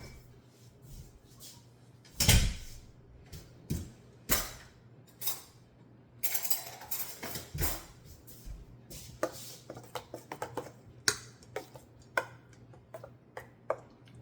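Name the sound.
stirring enchilada sauce in a pot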